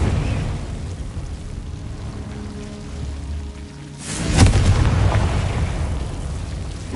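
Confringo fire spell cast in the video game Hogwarts Legacy on PS5, a sudden loud blast about midway through that follows a quieter ambient stretch and leaves a rumbling, crackling tail.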